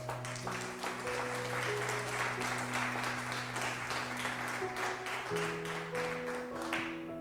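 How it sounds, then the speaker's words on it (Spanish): Church congregation clapping hands in a dense, continuous applause over sustained organ or keyboard chords, moderately loud throughout. "¿Cuántos le pueden dar palmas a Él?"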